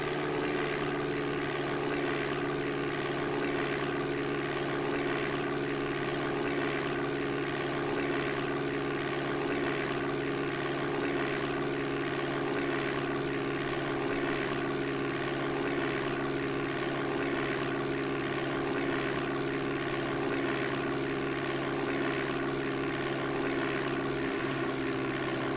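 Steady propeller aircraft engine drone in DOS Flight Simulator 5.1, a constant buzzing hum with throttle brought down, unbroken and even with no voices over it.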